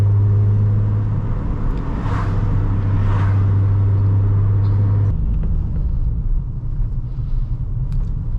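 A 2002 Nissan 350Z driving at low speed, a steady engine rumble and road noise heard from inside the car, with the drone easing off partway through as it slows.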